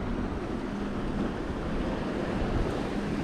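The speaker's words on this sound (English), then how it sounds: "It's getting pretty windy right now." Strong wind buffeting at a shore jetty, a steady roar with surf rumbling underneath and no voices.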